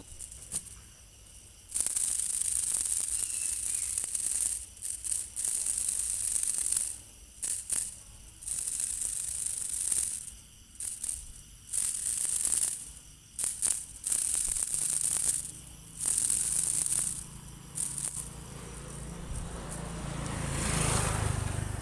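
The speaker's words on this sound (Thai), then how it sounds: "ตัวนี้ครับผมเป็นตอกเนื้อเส้นแบนนะครับ" Thai field-rat calling clapper of the flat-strip type, sounded close and loud as a long run of rapid, harsh rasping clatters in uneven bursts with brief gaps, and no voices.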